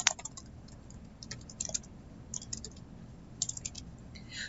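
Light typing on a computer keyboard, soft scattered key clicks in short irregular bursts over a quiet room hum, with no talk.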